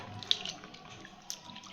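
Tap water runs softly into a sink while mushrooms are rinsed by hand, with a few faint splashes over the quiet flow.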